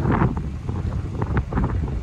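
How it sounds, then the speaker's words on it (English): Wind buffets a microphone on a beach, a rough, gusty roar that swells and dips unevenly over a couple of seconds, with no voices. "Sorry about the wind."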